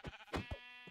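Sheep bleating in a modded Minecraft game, several short, close bleats in quick succession, loud and clear with no talk.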